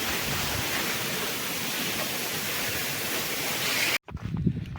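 Langkangtui waterfall near Kala Nala by Chotolangpher village, Umrongso, roaring as steady broadband rushing water for four seconds, then cut off abruptly and replaced by quieter, uneven outdoor sound.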